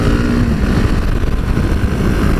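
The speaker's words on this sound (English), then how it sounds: "the bike's phenomenal engine punch." Husqvarna 701 Supermoto single-cylinder engine accelerating hard uphill, a loud, close, continuous rasping drone that holds steady throughout with no talk over it.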